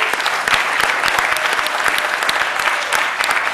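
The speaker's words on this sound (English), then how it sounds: "a round of applause" Steady applause from an audience at a company gathering honoring staff, dense and continuous clapping throughout with no voices on top.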